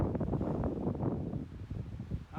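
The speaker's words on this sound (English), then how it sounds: "Pretty windy though too." Wind rushes over a winter mountain trail on Mt Mann in Kananaskis' Highwood Valley, a loud steady roar with gusts that buffet the microphone, alone without talk.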